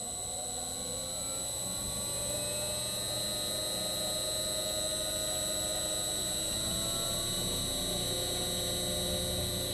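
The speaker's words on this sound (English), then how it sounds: "Now the motor's reversing." A three-phase motor run in reverse by a variable frequency drive, fitted with a big flywheel, gives a steady electrical whine with high tonal buzzing and hum, constant and close.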